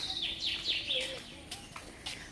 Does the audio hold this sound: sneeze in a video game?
no